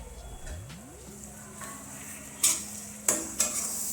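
Ground tomatoes and chillies hit a hot pan with a soft sizzle, then a spoon stirs and scrapes against the metal in a few sharp clanks, close and alone without talk.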